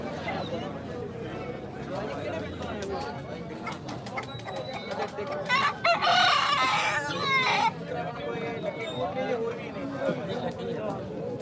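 Roosters crow amid clucking and cooing birds in a busy open-air livestock market in Punjab, with people talking nearby; one loud crow stands out in the middle.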